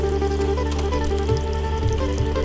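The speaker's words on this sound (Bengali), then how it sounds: "প্রথমে প্যানে আমি তেল দিয়ে তার মধ্যে দিয়ে দিলাম গোটা জিরে, আদা কুচি, লঙ্কা কুচি।" Whole cumin seeds, chopped ginger and chili sizzle in hot oil in a pan, a steady, close frying hiss with a constant hum underneath.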